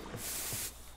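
A spray in the Friday the 13th: The Game video game releases one short, faint hiss lasting about half a second, with no voices over it.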